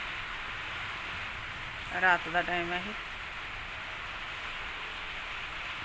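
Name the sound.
rain falling at night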